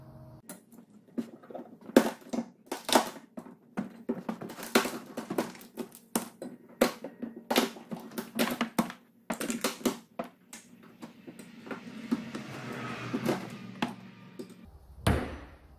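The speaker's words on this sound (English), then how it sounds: "I'm busting it off since it's all plastic." Plastic lip of a rear truck window frame being busted off by hand during a DIY window install, a string of sharp cracks, snaps and knocks at irregular intervals, then a denser crunching scrape near the end.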